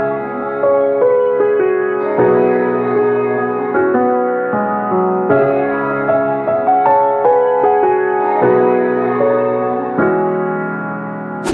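A processed music sample for a beat in an energetic style, drenched in reverb with a long roughly two-second decay; a steady, full, washy melodic loop plays alone and close.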